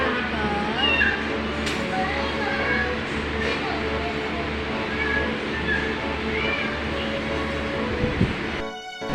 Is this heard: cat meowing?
yes